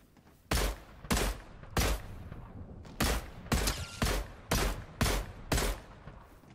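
Sniper rifle fire in the game Fortnite: eight loud, close shots in a steady rhythm about half a second to a second apart, each a sharp crack with a short tail, with no talking.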